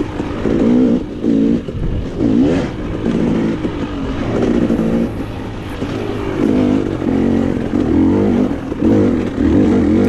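A 2022 KTM 300 XC-W two-stroke dirt bike races through a hare scramble at Lake Sugar Tree, its engine loud and close, revving and surging in repeated bursts with brief throttle-offs as the rider works through the gears.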